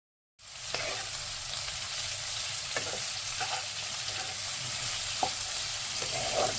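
Sliced onions hit a hot pan with salt and burst into a steady, close sizzle that holds through the clip. A handful of soft clicks from stirring rise above the hiss.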